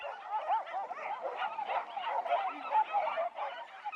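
Several hunting dogs bark and yelp in a dense, overlapping chorus during a wild boar hunt in Portugal's Alentejo, carrying from a distance with a hollow, echoing quality.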